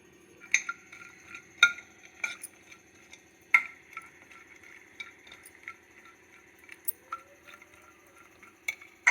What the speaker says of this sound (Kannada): ಇದನ್ನು ತುಪ್ಪದಲ್ಲಿ ಹುರ್ಕೊಳ್ಳೋಣ ಫಸ್ಟ್ ಗೋಡಂಬಿ ದ್ರಾಕ್ಷಿ ಹುರ್ಕೊಳ್ಳೋಣ